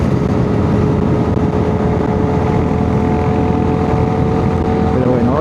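A Kawasaki Z900 motorcycle engine drones steadily at highway speed, around 100–110 km/h while riding in a group, with heavy continuous wind rush and a sustained tonal hum throughout.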